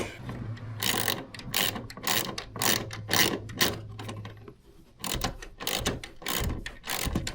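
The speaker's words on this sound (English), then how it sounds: "And I'm going to grab my socket wrench." A socket wrench ratchets a bolt tight during a Bluetti charger and breaker installation, giving quick bursts of sharp clicking strokes with brief pauses between them, near and fairly faint, with no one speaking.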